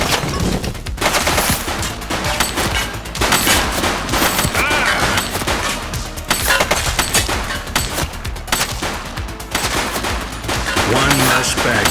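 Rapid automatic gunfire and overlapping shots from The Precinct police simulator video game, sustained and loud throughout, with dense bursts and no clear pauses.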